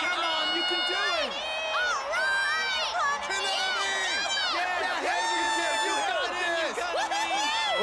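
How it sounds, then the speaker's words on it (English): Crowd cheering in the game Persona 4 Dancing All Night, dense overlapping shouts, whoops and rising cries from many voices, loud and sustained through the whole stretch. "Oh yeah, there's people here. I got so into it that I forgot. But they're cheering for Konami-san"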